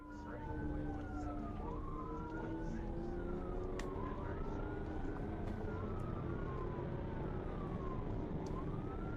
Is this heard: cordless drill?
no